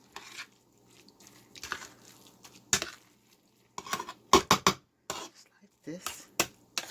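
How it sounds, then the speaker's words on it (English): Cooked broccoli is stirred into a cheese rice casserole, with irregular clinks and scrapes of a utensil against the dish alongside soft squishy mixing, close by and fairly quiet. "Blend the broccoli in."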